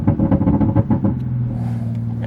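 Exhaust pops and crackles from a 700hp single-turbo MKV Supra, a loud close run of rapid irregular bangs over a rumbling idle that then settles into a steady drone.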